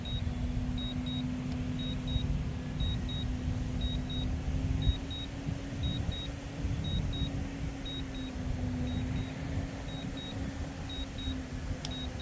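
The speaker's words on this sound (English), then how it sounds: "Noise you hear in the background, we have a street sweeper comes by" A passing street sweeper's heavy engine rumbles steadily with a constant low hum while a high electronic beep repeats at an even pace throughout.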